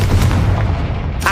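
A loud, sustained booming blast from the Confringo fire spell in Hogwarts Legacy, cast at an archway, rumbling heavily and filling the whole moment with a bright crack near the end.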